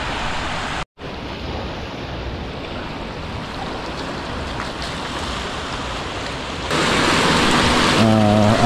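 Ocean waves wash onto a beach in a continuous rushing roar of surf that briefly cuts out, then swells louder near the end, with a faint tonal sound.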